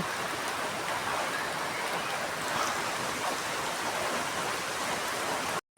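Steady, dense rain pours down outdoors as a continuous loud hiss of drops hitting surfaces. It runs unbroken and close, then cuts off abruptly at the end.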